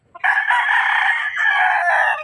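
A single loud crow from a Sweater gamefowl rooster rings out clearly and close by, one long drawn-out call with no other sounds around it.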